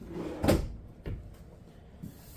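Kitchen drawers in a Cedar Creek 377BH fifth wheel RV bump shut and slide: three soft thuds spaced about half a second apart, close by, with no talking.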